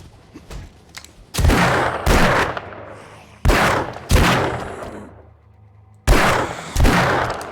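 Gunfire in the video game 7 Days to Die: heavy gunshots in pairs and short bursts with ringing tails, loud and close, separated by quieter gaps.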